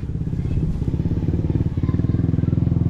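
A motorcycle engine idles in a steady, pulsing putter close by, with faint clatter as it is shifted around.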